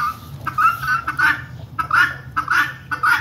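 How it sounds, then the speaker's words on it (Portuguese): Guinea fowl on a farm give repeated harsh, honking calls in quick bursts, close and loud, with no voices. "Ali nós temos os guinés, cocás, capote, caterê, galinha da Angola"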